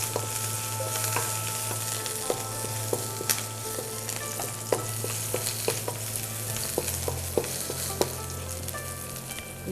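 Garlic and fried rice ingredients are stir-fried in a pan, a steady crackling sizzle broken by repeated sharp clinks and scrapes of the utensil against the metal, close and continuous without any speech.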